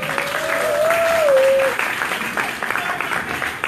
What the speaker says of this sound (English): Please clap it up for Michael Samanga.